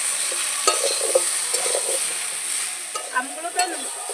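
Raw mango pickle with salt frying in a pan, with a soft sizzle under a high hiss and a few light spatula scrapes and clinks near the end.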